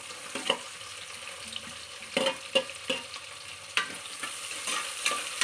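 Onions frying over a low flame in a pan for kushka, with soft continuous sizzling broken by occasional stirring scrapes and clinks, close and moderately quiet.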